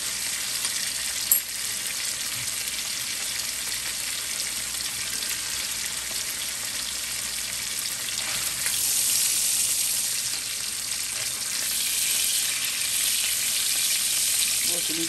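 Steak pan-fries in hot oil with garlic while being basted, giving a loud, steady close-up sizzle with a brief spoon clink and a swell of hiss partway through.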